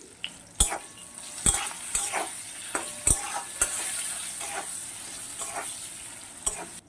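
Raw mango pieces frying in a pan for a sour vegetable curry, a soft steady sizzle broken by several sharp clinks and scrapes of a spatula against the pan, close and without speech.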